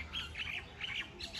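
Ruby macaws at a zoo give a run of harsh, raspy squawks, several calls overlapping in quick bursts, fairly close and loud over faint outdoor background noise.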